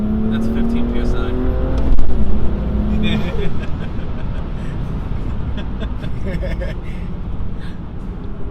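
BMW M235i engine accelerating hard under turbo boost at around 15 psi, a loud steady drone with rising tones and a surge near two seconds, heard from inside the car while people talk over it.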